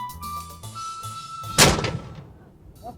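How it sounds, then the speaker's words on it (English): A historic cannon at an old Spanish fort fires once with a single heavy boom midway, its rumble decaying over the next second, after a stretch of low steady background tones. "properly fire one of these cannons"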